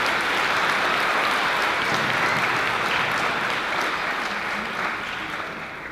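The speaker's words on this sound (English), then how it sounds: "Let's give them a round of applause." Sustained applause from the audience at an eighth grade moving-up ceremony, a full wash of many hands clapping that holds steady and then slowly tapers off.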